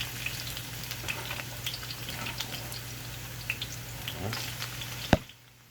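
Onion and garlic fry for chicken curry, giving a steady close sizzle with scattered pops and crackles, a low hum beneath, and a sharp clack near the end before the frying falls quiet.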